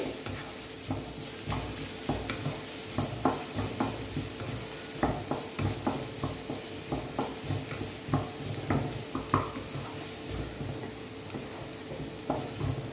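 A pan on a slow-to-medium flame sauteing a paneer and potato sandwich filling: soft continuous sizzle under regular scraping strokes of a spatula, steady and close.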